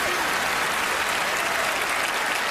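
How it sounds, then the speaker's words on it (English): A television studio audience at a magic show applauds loudly and steadily, a dense wash of clapping with no break throughout. "Another round of applause for Gianni"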